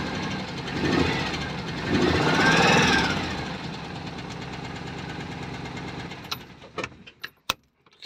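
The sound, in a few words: Lomax 224 engine first start, possible tappet noise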